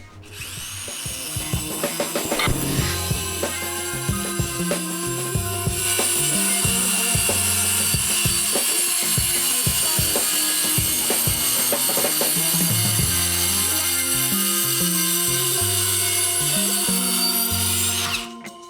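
Circular saw running along a guide rail as it cuts a wooden board, a steady loud whine with low rumbling and rattling underneath, sustained for over fifteen seconds before stopping.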